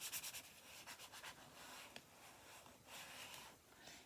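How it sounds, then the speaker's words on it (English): Bone folder rubbed firmly across paper for a pocket and envelope craft, giving soft, faint, repeated scraping strokes in a quiet room. "I'm going to give that a good burnish with my bone folder"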